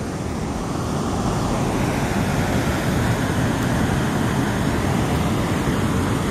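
Broad, steady roar of river water rushing over Hamlin Dam, constant and loud with no breaks, like heavy surf or wind noise filling the whole clip.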